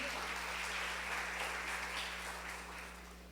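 An audience applauding at a church conference, a continuous wash of clapping heard from a distance over a steady low hum, fading slightly toward the end.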